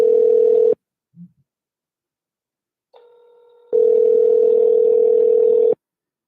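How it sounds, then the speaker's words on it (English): Phone calls ringing out on several lines at once, heard as a steady loud dial-type tone that cuts off, a brief low blip, then layered faint tones before the strong continuous tone returns for about two seconds; no talking. "I'm calling him on all 3 numbers at one time"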